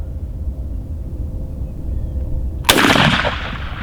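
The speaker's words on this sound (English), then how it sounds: "I shot a branch off." A shotgun fires a cut shell outdoors, a single sharp, loud blast after near-silence, its report ringing and decaying for about a second.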